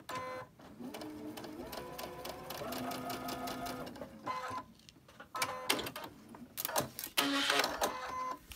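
A sewing machine whirs in quick rapid bursts of stitching, pausing briefly between runs, close and fairly quiet, with faint handling noises.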